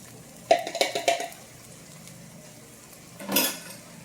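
Garlic dropped into a pan for sloppy joes and stirred, a quick cluster of metallic scrapes and clinks followed by a quiet pause and another short scrape.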